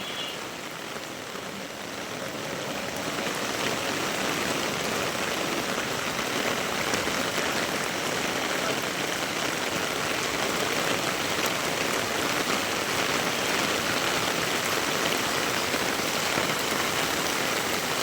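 Heavy rain pours down steadily in a dense, continuous hiss that drums on surfaces throughout, with no voices.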